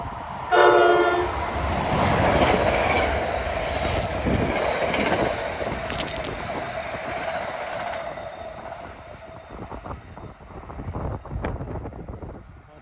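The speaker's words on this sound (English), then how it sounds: "It might have been another one of those Princeton Junction Express trains." An express passenger train on the Northeast Corridor at Linden, New Jersey, sounds a loud blast on its horn as it nears, then roars past with heavy wheel rumble and wind buffeting the microphone.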